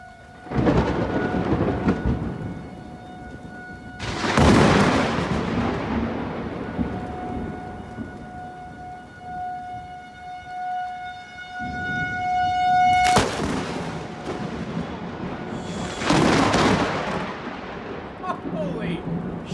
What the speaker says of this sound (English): An amateur video was submitted to this studio with a wall cloud and extremely violent lightning